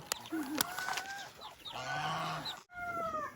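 Chickens clucking inside a coop with a newly hatched chick among them, a rooster crowing too; short overlapping clucks and calls, fairly close, with a brief dip near the end.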